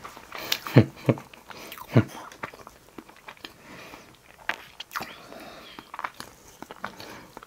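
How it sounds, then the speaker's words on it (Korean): Someone bites into a Japanese butter cake, with a few soft, close bites and quiet chewing sounds over a faint background. "먹어볼게."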